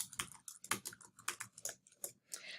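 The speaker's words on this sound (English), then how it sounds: "once I'm done typing in my instructions" Fingers type on a computer keyboard in an irregular run of quick, soft key clicks and taps, close and quiet, with brief pauses between bursts and no talking.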